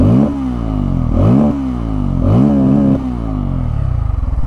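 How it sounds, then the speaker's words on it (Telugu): Bajaj Pulsar N250 motorcycle, 2024 black model with an oil-cooled engine, revved three times from idle: each blip rises sharply then falls back to a steady, loud, close exhaust burble, with no talk. "ఒకసారి ఎగ్జాస్ట్ సౌండ్ అయితే వినండి."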